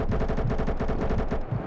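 An AK rifle in the Combat Masters battle royale fires a fast, unbroken automatic burst of loud, close shots in even rapid rhythm, sustained for under two seconds, with no voices over it.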